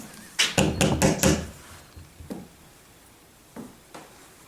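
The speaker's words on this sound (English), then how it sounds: "Was that you knocking back?" A quick run of four or five firm knocks on wood, then a few fainter, scattered taps after a pause.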